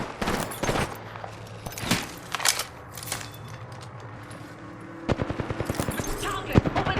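Gunfire in Apex Legends in Kings Canyon: bursts of rapid automatic shots and single cracks come in clusters, loud and close, with a player talking in between.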